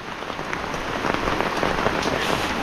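Heavy rain pours down steadily onto surfaces during a strong downpour on a farm with flooded bitter gourd plots, a dense, continuous hiss of drops that grows slightly louder partway through, with no voices.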